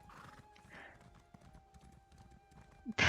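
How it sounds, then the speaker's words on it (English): Horse hooves clip-clopping in the video game Elder Scrolls Online, a steady run of fairly faint hoofbeats with neighing and whinnying, ending in a louder burst. "Let me just hop on my horse."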